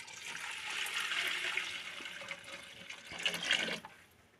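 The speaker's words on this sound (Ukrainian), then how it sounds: "щоб скоріше йшов процес заливаємо воду в казан" Boiled water pours steadily into a metal cauldron close by, for melting beeswax, a rushing splashing stream that surges near the end and then stops.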